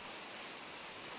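Towangseong waterfall in the mountains, swollen after heavy summer rain, pours down in a dense, steady roar of falling water, loud and unbroken with no voices.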